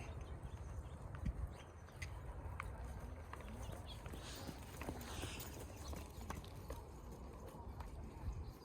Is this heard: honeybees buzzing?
no